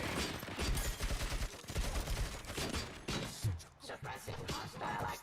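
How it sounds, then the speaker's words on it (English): Gunfire from enemy drones in the PS5 game RoboCop: Rogue City: dense, continuous automatic bursts with thuds and crashes, loud and close, barely broken by brief pauses, with no clear talk. "those UEDs shoot so beautifully"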